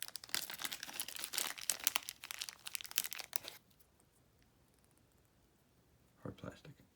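Plastic packaging of hard plastic board game tokens for a Judge Dredd game being opened, a few seconds of crinkling and tearing close up, then near silence and a brief final rustle.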